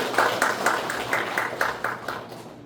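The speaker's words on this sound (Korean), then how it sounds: "큰 박수 부탁드리겠습니다" An audience at a residents' briefing on the Namseong station-area urban redevelopment project claps in a steady, rhythmic beat, close and fairly loud, fading slightly at the end.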